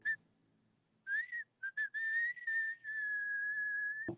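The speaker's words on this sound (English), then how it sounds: "Can you demonstrate one of these loud whistles that you speak of?" A loud, sustained human whistle, given as a demonstration: a short rising note, a few clipped chirps, then a long steady tone held close and strong for over a second before cutting off abruptly.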